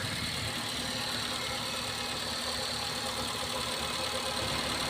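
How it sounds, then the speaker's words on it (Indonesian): A used Honda Jazz IDSI engine idles with a slightly rough, steady drone, and the exhaust silencer may be leaking. The rumble is continuous and fairly loud, with no talking. "Selanjutnya kita bisa nyalakan mesinnya terlebih dahulu ya, untuk mengetahui kondisinya ya."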